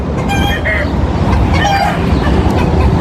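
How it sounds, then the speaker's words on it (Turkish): Several roosters crow and squawk together at close range, overlapping harsh calls in bursts over a dense outdoor background noise, with people talking among them. "Güneş çabuk horozlara şaşkınlıkla bakıyor. Hepsi birden bağırdı."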